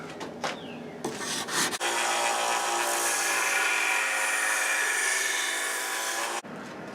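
Sandpaper rubs steadily by hand across a Damascus steel cleaver blade, a dense continuous scratchy hiss after a few brief strokes, close and alone.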